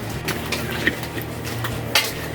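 A metal lid set onto a casserole pot full of upo gourd, two brief clanks of metal on metal over a steady low hum of the cooking setting.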